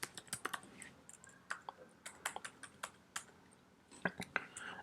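Quick, uneven bursts of keystrokes on a computer keyboard while code is typed, close and fairly quiet, with soft speech between clicks.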